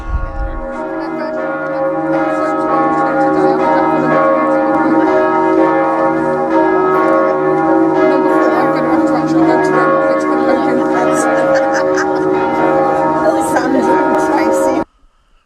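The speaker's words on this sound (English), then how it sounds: "Stockholm celebrated Pauline's birthday with the bells" Church bells in Stockholm ringing continuously in a rich, overlapping peal, loud and sustained for several seconds before cutting off abruptly.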